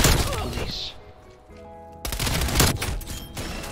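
MP5 submachine gun bursts with orange tracer rounds in Call of Duty Cold War. Loud, dense fire opens and closes the stretch, with a brief quieter lull in the middle and a sharp high whoosh early on.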